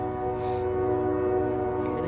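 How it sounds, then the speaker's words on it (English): A passing train sounds a sustained, steady horn tone with rich layered harmonics for the whole moment, fairly distant and alone without talk. "You hear the train?"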